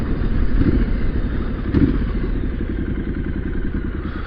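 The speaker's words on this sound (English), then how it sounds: "I don't know whether you can tell the difference in tone" A motorcycle engine with a 2-into-1 exhaust idles and burbles steadily, a low throbbing rumble with a brief rev partway through.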